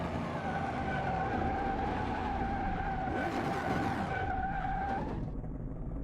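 A race car in the Car Mechanic Simulator video game drives at very high speed, a steady high engine whine with tire squealing and skidding noise underneath, continuous and loud throughout.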